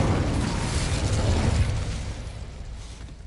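An Incendio fire spell cast in a Harry Potter video game, a dense whooshing burst of flame that stays loud for about a second and a half, then tails off into a fading rumble.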